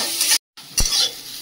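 Potatoes sizzle as they fry in a pan, with a brief scrape of stirring, a short break, then the close, steady hiss resuming.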